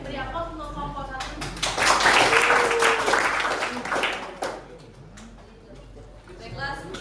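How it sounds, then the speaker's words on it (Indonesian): A group claps for classmates after a classroom presentation, a burst of applause lasting a few seconds that fades out, with voices talking before and after. "beri aplaus untuk kelompok 1"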